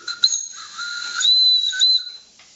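A short, loud whistle from a 5-inch gauge steam locomotive, hissy and breathy, sounding a couple of steady tones for about two seconds, then cutting off.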